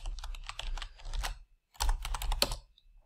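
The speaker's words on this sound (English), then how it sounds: "here you can type in your own text" Typing on a computer keyboard while entering text for an Instagram post from a Mac: two close bursts of rapid key clicks with a short pause between them, no voices.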